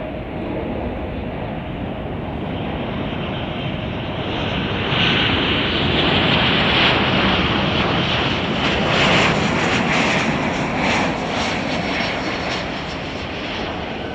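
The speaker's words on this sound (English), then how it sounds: "That's a Boeing 777-300ER. That'll be coming in here soon." A Boeing 777-300ER airliner arriving at Chicago O'Hare roars steadily with a broad, continuous engine rumble and whine that swells slightly midway as it passes, loud and fairly close, with no talk.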